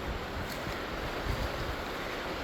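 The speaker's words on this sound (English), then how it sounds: "we come up to Hicks Creek, which is flowing pretty heavy and brown." Heavy brown water of Hicks Creek rushing along a roadside near Glacier View, Alaska, a steady broadband roar with some wind buffeting, no voices.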